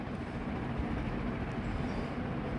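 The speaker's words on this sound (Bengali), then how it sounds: "2 থেকে 5 মিনিট পর পরে এই স্কাই ট্রেনগুলো চলাচল করে টার্মিনাল 1 থেকে টার্মিনাল 3।" The automated Skytrain running between terminals at Changi Airport, Singapore hums along with a steady low rumble and wheel noise, close and continuous, with no talk.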